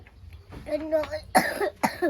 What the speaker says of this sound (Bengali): আস্তে আস্তে কাশি হচ্ছে